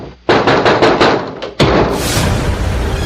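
A door shut in a Hindi radio ghost-story drama: a quick run of sharp knock-like impacts, then one loud, close slam with noisy ringing afterward, and no voices.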